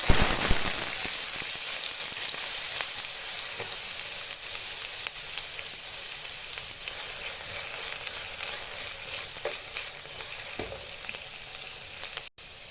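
Carrots dropped into a frying pan of vegetable rice set off a loud, steady close-up sizzle and crackle that hisses on without pause, with a few faint knocks of stirring.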